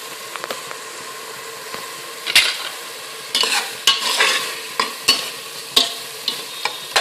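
Tomatoes being stirred and mashed into a simmering intestine gravy in a pan, a soft bubbling sizzle broken by repeated sharp scrapes and squishy pressing strokes of a spoon, close up with no voices.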